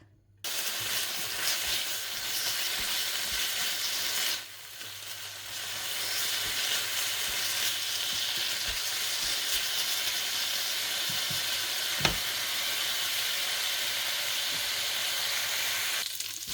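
Bacon sizzling in hot oil in a pan, a dense continuous crackle and hiss that runs loud and close for the whole stretch, dipping briefly once, with one sharp tap near the end.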